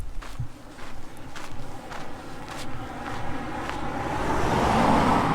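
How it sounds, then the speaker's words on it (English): Cars pass on a road near Uluru in outback Australia, a soft traffic hiss that swells toward the end as one vehicle draws closer, heard alongside footsteps on a path. "A few cars going back and forth."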